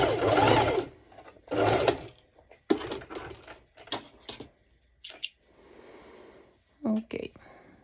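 Sewing machine stitching two layers of fabric, short bursts of rapid mechanical whirring separated by pauses, close and moderately loud, with a person speaking between bursts.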